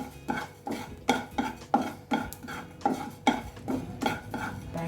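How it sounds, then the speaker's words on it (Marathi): Cumin seeds are dry-roasted in a pan with the gas off for chakali bhajani. A utensil stirs and scrapes them in a regular rhythm of about ten distinct clinking strokes, close and fairly loud, with no talking. "आता मी जिरे टाकून घेत आहे।"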